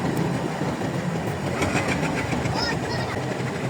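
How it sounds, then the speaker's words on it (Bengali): A passenger train departs the station at Talma, Faridpur, with a dense, close rumble of engine and wheels and a few clanking beats, while a voice talks over it. "ট্রেনটা ছেড়ে গেল"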